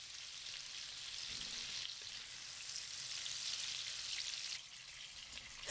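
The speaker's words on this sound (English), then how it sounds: "add the shrimp and 1/4 teaspoon of salt. Stir for 1 minute" Shrimp stir-frying in hot oil in a pan for Pad Thai, a soft steady hiss of sizzling with slight shifts as it is stirred, quiet and close.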